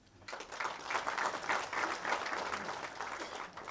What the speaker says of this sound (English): you have another chance to clap